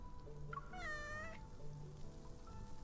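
A cat meows once in a video game scene, a clear tonal mewl of about half a second heard alone over a quiet ambient backdrop with faint soft noises.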